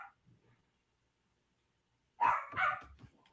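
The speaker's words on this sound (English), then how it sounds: "Sorry about the dog barking." A household dog barks a few times, close and fairly loud, after a quiet stretch, during a livestream.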